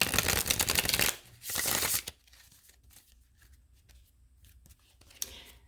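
Tarot cards are shuffled briskly in two fast riffling bursts, close and crisp, followed by quieter handling and faint rustles with a small tap near the end.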